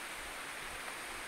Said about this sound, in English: St. Silas Falls.